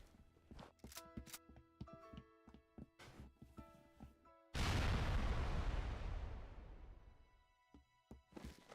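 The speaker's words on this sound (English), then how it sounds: "for how big the explosion is, it does sound a little wimpy" A large explosion sound effect from Halo 3 mod tools hits at once, a loud broadband boom that rolls and decays over several seconds, after a stretch of scattered game blips, clicks and tones.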